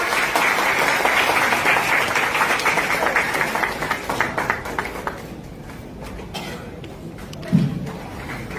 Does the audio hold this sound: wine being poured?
no